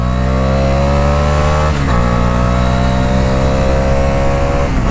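A Bajaj Dominar 250 motorcycle engine, 2024 model, revs hard in fourth gear while riding, a loud steady drone that climbs in pitch, dips briefly at a gear or throttle change, then rises again.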